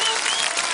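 Studio audience applause on a Dominican television program, a brief loud burst of many people clapping together, dense and even, with no voices over it.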